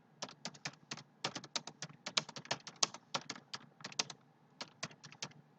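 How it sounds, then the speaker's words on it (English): Rapid, uneven clicking of keys on a computer keyboard fills the recording, crisp and close, with short bursts and brief pauses between strokes and no talking. "In this document, we can type whatever we want."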